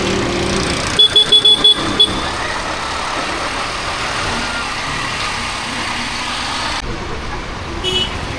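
Road traffic moves along a potholed street, with car and truck engines rumbling continuously close by, a quick burst of clicking taps early on, and a rising engine swell near the end.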